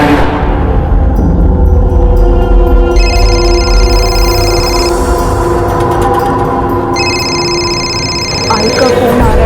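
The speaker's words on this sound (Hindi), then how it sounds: "आई का फोन आ रहा है।" A telephone rings with an incoming call from mother, two bursts of high electronic ringing over loud, busy dramatic background sound.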